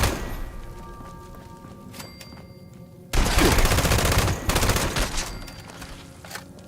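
Rapid automatic gunfire in Fallout 76 erupts suddenly after a quieter stretch of scattered shots and carries on loud and dense for several seconds, then tapers off.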